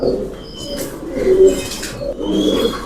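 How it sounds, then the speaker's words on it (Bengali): Caged pigeons of improved breeds coo in a steady, overlapping chorus, their low rolling calls close and fairly loud, with no talking. "ভাই আমরা উপরের খাঁচার তো কবুতর গুলো দেখলাম নিচে অনেক কবুতর"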